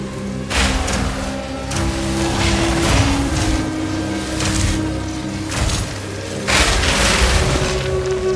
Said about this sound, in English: I'm gonna start using those decay grenades too.